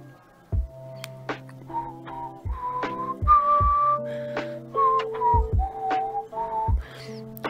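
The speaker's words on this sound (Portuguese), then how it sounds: "Quando você começa a assobiar suas próprias músicas, é da hora, hein?" Someone whistles a melodic tune close by, clear sustained notes rising and falling, punctuated by soft low thumps underneath.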